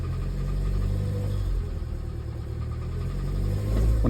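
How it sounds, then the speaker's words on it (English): A used car engine with a suspected lower-end rod knock, heard up close as a loud, steady low rumble with vibration that swells slightly toward the end, with no talking over it. "Sounds like a rod in there knocking or something."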